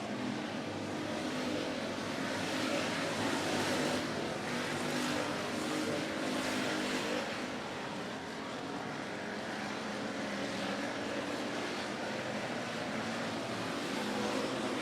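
Dirt track race cars circling at 105 Speedway during a regular race program, a steady, blended engine roar that holds continuously at moderate distance with no voices over it.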